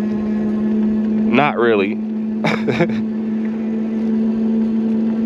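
A throttle-only e-bike motor pulling up a hill at about nine miles per hour without pedaling, giving a steady, close mid-pitched electric whine under wind, with brief bits of a rider's talk over it.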